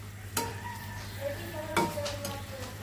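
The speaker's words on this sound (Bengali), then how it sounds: "বাসায় সবজি যা যা ছিল তাই দিয়ে রান্না করতেছি" Mixed vegetables with bori cooking in a pan: a soft continuous sizzle with a few crisp scrapes and clinks of the stirring utensil, over a low steady hum, with no talking.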